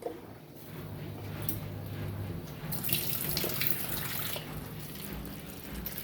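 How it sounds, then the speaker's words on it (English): Tap water runs steadily into a pot of leftover vegetables while making Jamaican brown stew chicken, a continuous close splashing rush that swells slightly midway, with no talk over it. "We're going to add some water to this real quick."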